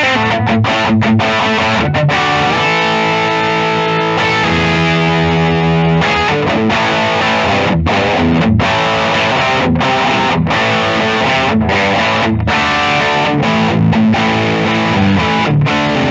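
A 1998 Gibson Les Paul Catalina in ebony plays through heavy distortion with thick, sustained chords and choppy rhythmic stops. The riff carries on loud and continuous for about sixteen seconds with no talking.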